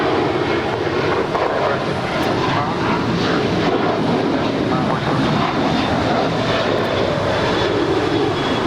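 Aircraft engines roar steadily at Los Angeles International Airport as a KLM jet pushes back, a loud broadband rumble filling the whole stretch with a faint whine on top.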